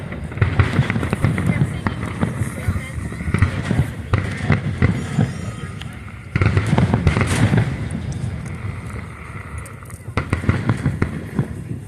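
Independence Day fireworks burst over Washington DC in repeated booming explosions with crackling tails, some close together, while people talk in the background.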